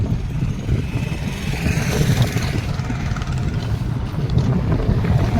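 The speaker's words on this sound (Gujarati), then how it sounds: "બહુ બધો પવન આવે છે." Strong wind on a cycling journey through Kutch, Gujarat, buffets the microphone as a continuous low roar and rumble with a steady airy hiss, loud and unbroken, with no talking.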